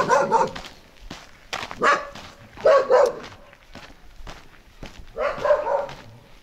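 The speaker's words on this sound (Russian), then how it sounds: "собаки везде." Dogs in a private-house village sector bark in repeated loud bursts, several short volleys spaced over a few seconds, fairly close, with no one talking.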